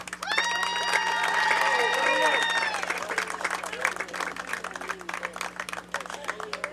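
A crowd applauds loudly with scattered cheers and whoops at a Little League baseball state championship, the clapping thinning out gradually toward the end.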